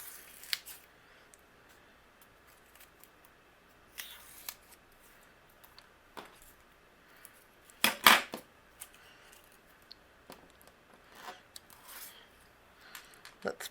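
Scissors trim card stock for a handmade shaker card in a series of short, crisp snips and rustles, close and fairly quiet, spaced irregularly, with one louder cluster of cuts midway.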